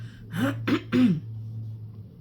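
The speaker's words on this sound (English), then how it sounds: "I keep having to cough" Three close throat-clearing coughs in quick succession, each a short rough burst, followed by quiet with a faint steady hum beneath.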